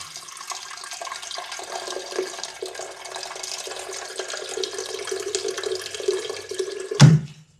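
Tap water runs steadily into a container while someone fills up drinking water indoors, a continuous close hiss and splash that ends with a brief louder thump near the finish.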